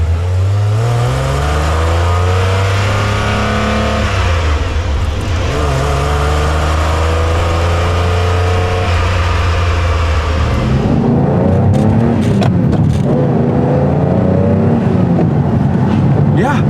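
Inside the cabin of a 1988 Ferrari Testarossa, the engine drones steadily and fairly softly, rising in pitch as the car accelerates, with a gearshift dip near the middle before revving builds again.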